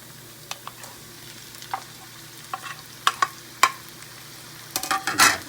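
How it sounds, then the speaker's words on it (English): Tomatoes are stirred into onions and garlic browning in a pan, giving soft scattered scrapes and clicks over a faint steady sizzle, with a busier burst of stirring near the end. "Put my tomatoes in there and just stir that up good together"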